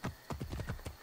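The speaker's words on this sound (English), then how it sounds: "So I'm going to call my horse." Horse hooves clip-clop in the video game Assassin's Creed Origins, a quick run of about six close, loud, evenly spaced hoofbeats with no talk over them.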